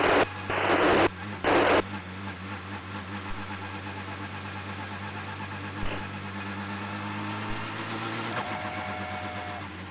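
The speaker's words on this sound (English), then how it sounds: "then we'll see that upshift under full power" A Mazda race car engine under full power, heard as a steady engine drone with a few bursts of radio static at the start and a shift in pitch near the end.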